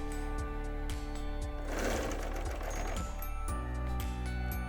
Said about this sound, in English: I'm just letting the cutting blade trim just a sliver of fabric as I go